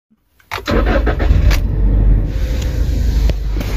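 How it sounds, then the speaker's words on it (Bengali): A Toyota Fortuner automatic cranks with a few quick churning bursts, then its engine catches and settles into a steady, fairly loud idle. "ফ্রেন্ডস এখন আমরা গাড়িটা স্টার্ট করব।"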